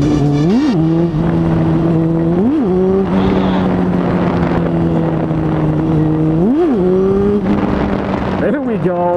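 A car engine revs hard in repeated rising and falling surges while someone attempts a wheelie, loud and close throughout, with a voice heard underneath.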